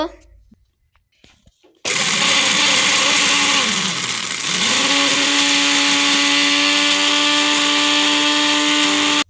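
An electric blender grinds dried ginger into powder, kicking in abruptly after a brief quiet stretch and then roaring loudly and steadily, its whine dipping once before settling back to a constant pitch.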